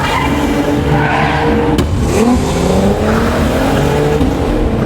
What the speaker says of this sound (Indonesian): ia mengendarai mobil dengan kecepatan tinggi hingga membuat teman-temannya ketakutan